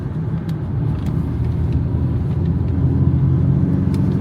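A Ford Fiesta Mk2 engine runs with a low, steady rumble, the throttle blipped lightly so the drone swells a little, heard close up with no talking.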